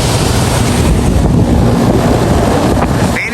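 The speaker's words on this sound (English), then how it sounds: "You see that the blower is working now." The blower fan of a Carrier rooftop HVAC unit runs with a loud, steady, broadband rushing roar, close by and unbroken, with no one talking.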